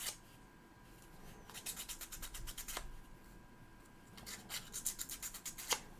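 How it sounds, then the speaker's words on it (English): Plastic pieces from a ROKR 3D pinball model kit sanded by hand in quick, close, rhythmic rasping strokes, coming in two bursts separated by a pause, with no talking. "The sanding works surprisingly well on these plastic pieces."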